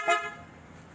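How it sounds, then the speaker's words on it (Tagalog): PIAA super bass horn fitted to a Suzuki V-Strom 650 motorcycle gives one short, loud honk with rich harmonic tones, then fades into quiet background. "Yan, busina."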